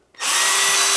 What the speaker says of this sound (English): This angle drill is really handy. I use it quite a lot for restricted access.